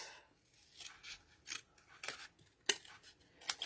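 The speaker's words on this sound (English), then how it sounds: "I'm going to cut this right in half" Scissors snipping through scrap paper for a card, a few quiet crisp cuts with rustling between them, close and faint.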